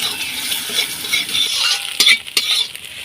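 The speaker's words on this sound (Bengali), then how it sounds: "ডিমটাকে আমি ভালো করে ভেজে নেব।" Eggs frying in oil in a kadai, a steady close sizzle with a few sharp clicks of a utensil against the pan.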